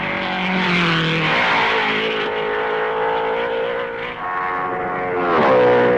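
1955 Formula 1 race cars at the Belgian Grand Prix at Francorchamps, loud engines revving and wailing with pitch sweeps as the cars race past one after another, one rising near the end.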